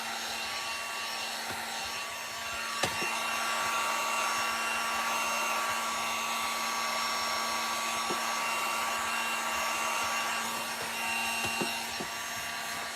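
A hair dryer runs steadily and alone for the whole stretch, drying paint on cheap wood craft planks, with a few faint taps and knocks from handling the wood.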